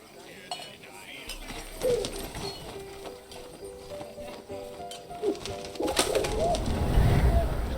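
Pigeon in the game 11-11: Memories Retold, a few soft coos and wing flaps over a low rumbling background, building louder toward the end.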